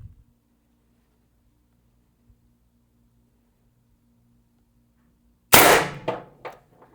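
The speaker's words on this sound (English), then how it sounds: "shooting 4 gram Vindicator rounds" An Umarex TR50 air rifle fires a 4 gram Vindicator round at roughly 14 feet, a single sharp, loud crack after near silence, followed by two quick fading impact bursts.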